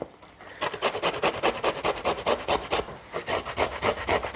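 Fresh unpeeled ginger rubbed on a fine grater for a chocolate beetroot cake, making close, rhythmic rasping strokes in a quick, steady back-and-forth run.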